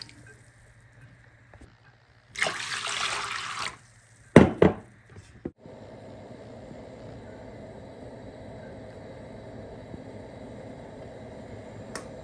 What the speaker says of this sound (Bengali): এখানে আমি গরম পানি অ্যাড করলাম।